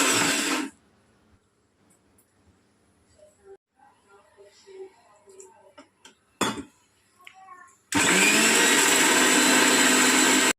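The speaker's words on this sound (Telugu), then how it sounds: "ఇది మసాలా పడతాను." A mixer grinder pulverises masala of coconut, ginger, garlic, coriander and poppy seeds, roaring loudly at the start, stopping for a stretch of quiet handling sounds, then roaring again at full strength.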